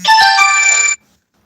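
A mobile phone gives one short, loud, bright electronic ringtone burst of about a second, followed by silence.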